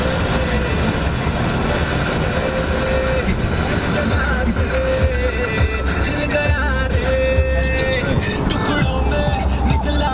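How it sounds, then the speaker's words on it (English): A taxi rolls through heavy Dubai traffic, a steady loud road rumble with engine drone and passing vehicles throughout, voices talking faintly inside. "we found this taxi and now we're moving"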